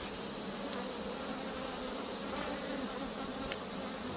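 Honeybees buzz steadily around defensive hive colonies while the beekeeper works them, a dense, continuous insect drone close by with no talking.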